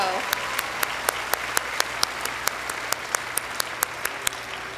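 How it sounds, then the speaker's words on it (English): Sustained applause from a high school graduation audience in 2017, a steady wash of many hands clapping with some individual sharp claps standing out at regular intervals. "Let's have another round of applause and a thank you."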